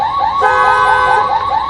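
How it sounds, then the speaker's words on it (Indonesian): A car alarm wails outside in a steady, looping electronic tone that rises and falls in repeated cycles, loud and continuous with no voices. "Namun tak lama terdengar suara alarm mobil di luar"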